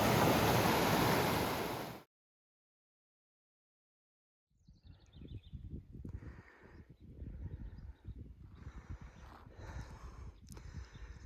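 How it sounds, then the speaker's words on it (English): Rushing water of a mountain stream in the Sierra Nevada, a steady broadband wash heard close and loud at first, cutting out abruptly, then returning as a softer, churning flow with scattered splashes and gusts of wind. "Rushing water."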